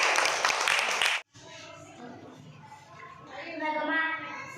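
Children in a classroom quiz game clap for a correct answer: a dense burst of applause lasting about a second, then a teacher's voice takes over.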